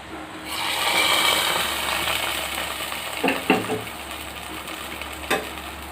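Milk payasam is stirred in a pot, a soft hissing bubble under a few sharp metallic clinks of a spoon against the vessel, close and with no voices.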